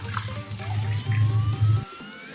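Milk poured into a pan of fried cashews and coconut, a continuous near gurgling stream that stops abruptly just before the end, leaving quiet background.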